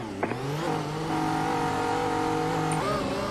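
A race car in the iRacing Grand Prix Series, 2022 season, accelerates hard: the engine note climbs sharply, holds a loud sustained whine, then dips with a gear change before pulling again.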